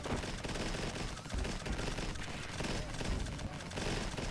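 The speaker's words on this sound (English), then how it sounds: "There's so many explosions" A dense, continuous barrage of explosions and weapon fire from a space battle in the idle clicker strategy game Lazy Galaxy 2, loud and unbroken throughout with no clear pauses.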